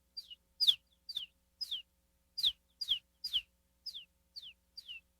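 A beatboxer voices a series of about ten short, high descending chirps, spaced unevenly and close to the mic, imitating a bird's call with no talking.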